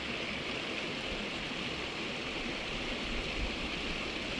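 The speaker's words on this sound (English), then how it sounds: "Creek is right over here" Clear Creek in the Grand Canyon flows steadily nearby, a constant broad rushing wash of water that stays even and moderately loud throughout, with no voices.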